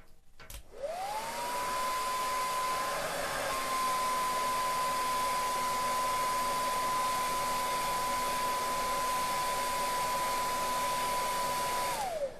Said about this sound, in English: So I just do it there with a hairdryer